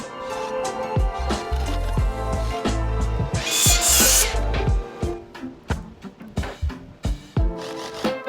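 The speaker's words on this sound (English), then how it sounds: "I'm going to attach these boards with screws" Boards for a 2x4 wooden sofa are fastened with screws: a series of sharp knocks and handling clatter, a short high whirring burst of a driver near the middle, then scattered thumps and taps close by.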